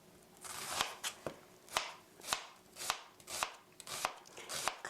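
A knife chops steadily on a cutting board, crisp close strikes in an even rhythm, with no talking.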